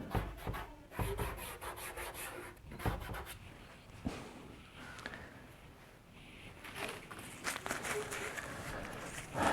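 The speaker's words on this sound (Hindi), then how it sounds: "जगह बचाने के लिए मैं इसको फिलहाल रब करता हूं" Writing being rubbed off a board with scrubbing, rasping strokes in uneven bursts, some sharp and close, no talking.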